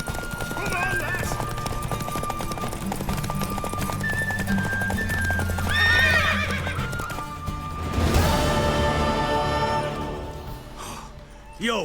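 A horse in The Witcher 3 neighs and whinnies while hooves clip-clop at a run, loud and close, with game music and a voice speaking over parts of it.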